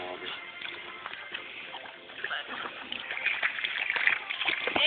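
A small child splashes and slops through a muddy puddle outdoors with a steady wet sloshing that grows busier toward the end. Voices talk over it at times.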